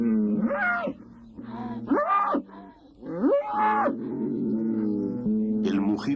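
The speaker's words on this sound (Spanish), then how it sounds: "Mugidos de llamada, de queja o desafío, que inundan de inquietud el sereno ambiente de la dehesa." Fighting bulls bellowing out on the dehesa, several long, deep moos and drawn-out groans following one another across six seconds, loud and close, with no talking.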